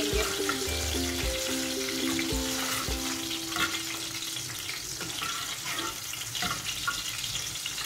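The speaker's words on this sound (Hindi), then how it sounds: "सब्ज मिर्चों को हमने थोड़ा सा फ्राई करना है।" Green chillies frying in oil in a karahi for dhaba-style chicken karahi, a continuous crackling sizzle under a bed of background music, with no one speaking.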